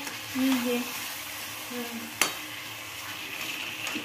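Potatoes being stirred into a pot of chicken curry, with soft scraping and a faint sizzle, a sharp utensil knock midway, and a voice talking at times underneath.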